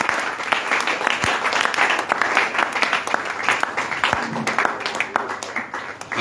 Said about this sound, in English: Clap very well. Clap like men and women who have received.